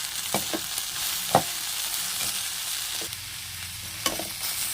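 Sliced radish and turmeric tossed with sesame seeds in a hot pan, a soft continuous sizzle with several distinct scraping stirs of the spoon at irregular intervals.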